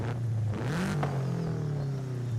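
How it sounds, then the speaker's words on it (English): A Subaru WRX boxer flat-four engine in Forza Horizon 5 revs up, drops and climbs again, a loud droning growl with rising pitch sweeps, heard alone without talk. "I believe it's still got the boxer engine, the flat four cylinder. That's why it's got the Subaru WRX sound,"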